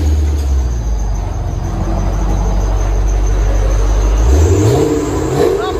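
A 1998 Chevy Corvette 5.7L V8 with dual exhaust and axle-back pipes rumbles close and loud, a steady deep idle that rises into a rev near the end.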